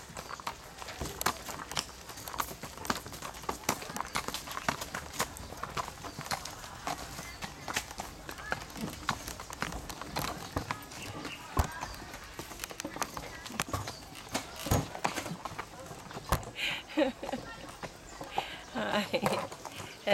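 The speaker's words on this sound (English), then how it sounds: "on a horse ride, horse and carriage" Steady clip-clop of horse hooves on pavement during a horse-and-carriage ride, a continuous trotting rhythm over outdoor ambience with occasional voices nearby.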